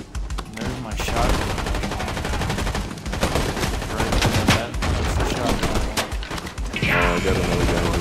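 Rapid, loud bursts of automatic gunfire from the video game Fortnite crackle almost continuously, layered with sharp impacts and a brief voice heard faintly underneath.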